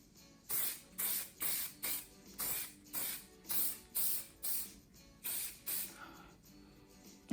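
A weightless hair spray for heat and UV protection is pumped in a quick run of about a dozen short, even hissing bursts, close up and fairly quiet, with no talking.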